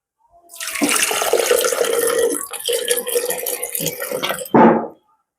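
Water pours steadily into a blender jar for several seconds, splashing and gurgling, ending with a brief louder burst before stopping.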